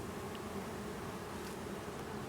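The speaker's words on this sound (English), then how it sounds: "there are a couple of bees fanning" Honey bees fanning at the entrance of a Layens hive after a nuc transfer, a steady low insect drone filling the whole stretch with no voices.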